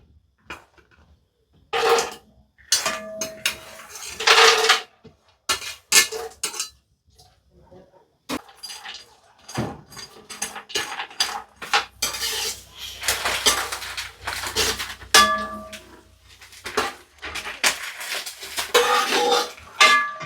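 Raisins and cashews fried in hot ghee in a pan, heard as frequent metallic scrapes and clinks of a spoon stirring against the pan, with quiet gaps and faint sizzling in between.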